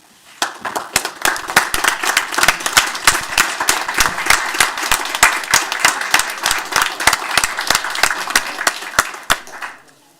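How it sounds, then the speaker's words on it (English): An audience at a city council meeting claps for honored student athletes, many hands in a loud, steady round with distinct sharp claps throughout, fading out near the end. "if we could just stand one more time and give them a round of applause"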